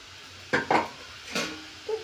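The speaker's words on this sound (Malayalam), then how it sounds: "നന്നായി വീണ്ടും ഇളക്കുന്നു." Ginger garlic paste stirred in a cooking pan with a spoon, giving a few quick scraping clacks followed by a softer scrape and a light tap, close and fairly quiet over a low background hiss.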